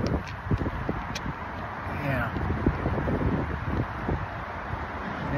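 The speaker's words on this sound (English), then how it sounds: "we got some big old freaking gusts of wind coming up" Strong outdoor wind gusts buffet the microphone in a loud, continuous rumble with rustling, broken by irregular low thumps, while a person talks over it.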